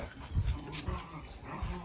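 A dog whimpers and whines in short, soft bursts close by, with low snuffling in between.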